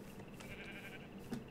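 A sheep bleats faintly in the Minecraft video game, one soft drawn-out call over quiet background sound, with a short sharper sound near the end.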